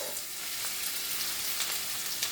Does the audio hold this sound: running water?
no